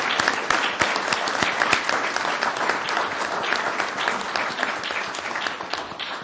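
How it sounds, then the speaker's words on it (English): At a Plymouth, Massachusetts select board meeting, the room applauds firefighters being recognized. The hand claps are sharp and distinct and close by, keeping up a lively, even pace for several seconds. "So I just want to give them all a round of applause."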